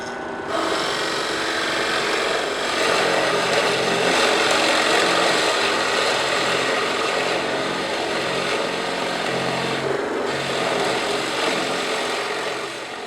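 A drill press bit grinds steadily into plywood for several seconds, a continuous rasping cut with slight rises and dips in pressure, close and clear with no voices.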